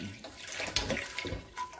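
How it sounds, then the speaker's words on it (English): Hot water from a tap splashes and runs into a cast iron skillet, a close, steady gushing with small surges, moderately loud and uninterrupted by talk. "You bring in some hot water."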